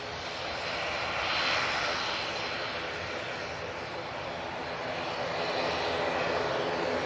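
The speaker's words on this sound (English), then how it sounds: "It's the Easyjet coming in from Belfast." An EasyJet airliner from Belfast arrives at Manchester Airport, its steady broadband engine roar holding even and moderately loud for the whole stretch, with no voices over it.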